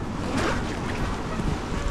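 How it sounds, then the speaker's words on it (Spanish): Sea waves washing into the Charco Azul natural rock pools on La Palma in the Canary Islands, a steady close surge of water with wind noise and no talk. "¿Cómo entra el mar?"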